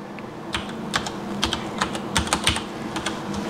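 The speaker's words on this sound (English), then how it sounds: "I want to type in here, find a setting, disk, D-I-S-K," Keys on a computer keyboard clatter in an irregular run of quick taps, close and crisp over a low steady hum, no talking.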